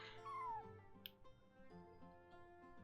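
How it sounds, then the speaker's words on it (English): A small cat in the Genshin Impact video game gives one short, thin, falling meow near the start over soft game music. "It's a very small mew."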